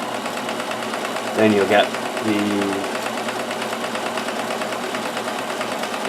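A Kenmore 158.1914 sewing machine stitching a multi-point zigzag in reverse feed runs with a steady, close mechanical whir throughout, while someone briefly talks over it.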